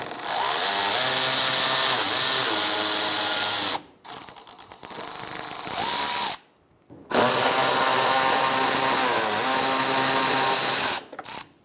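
A power ratchet driving a 5.5 mm socket to remove a splash shield bolt on a 2000-2007 Ford Taurus, loud buzzing whir in several long bursts separated by short pauses, close up and without talk.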